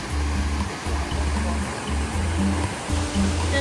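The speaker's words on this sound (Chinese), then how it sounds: "河津7个瀑布" One of the Kawazu Seven Waterfalls on the Izu Peninsula, swollen on a rainy day, roars as a steady, close, full-bodied rush of falling water that never lets up.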